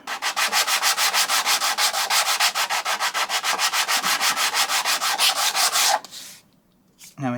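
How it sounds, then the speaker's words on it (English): Rapid back-and-forth sanding strokes on a wooden 1960s Marples pin marking gauge, loud and steady for about six seconds in a close, even rhythm, then stopping abruptly. "I'm trying to sand this evenly so I don't put it out of square"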